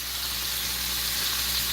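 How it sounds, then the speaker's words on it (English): Bacon sizzles in a pan at breakfast time, a steady close hiss and crackle with no voices. "Oh, listen to that bacon sizzle."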